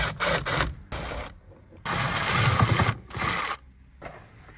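Two screws come out of a Holden VY Commodore interior dome light. Loud, close whirring bursts of about a second each start and stop several times with short pauses between.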